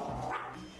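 A small dog barks a few quick times close by during a home visit, with room noise around it.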